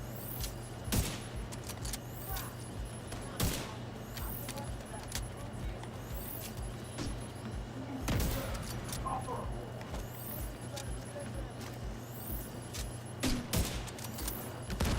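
Gunfire from The Division 2 during a Cavalier gear set build session, with a grenade launcher in use: sharp repeated shots at irregular intervals over a steady game hum, while a person talks.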